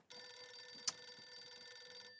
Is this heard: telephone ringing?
yes